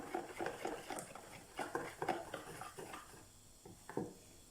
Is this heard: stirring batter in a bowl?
yes